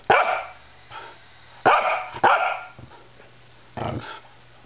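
A small dog barks in sharp, high yaps, a handful of them in uneven bursts, close by with quiet gaps between.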